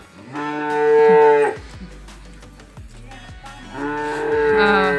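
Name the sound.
cow mooing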